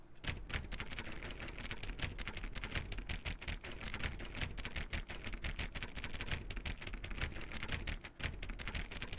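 Rapid, dense keyboard clicking from The Stanley Parable video game, dozens of keystrokes hammered in a steady fast stream, close and fairly loud with no talking over it.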